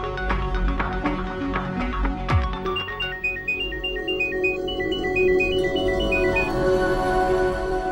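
A phone's ringing tone plays a short repeating electronic melody over a bed of background music.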